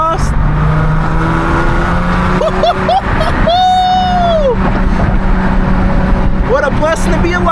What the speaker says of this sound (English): You hear that exhaust?